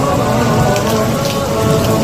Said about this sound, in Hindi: आप ये देख सकते हैं कितनी प्यारी बारिश हो रही है।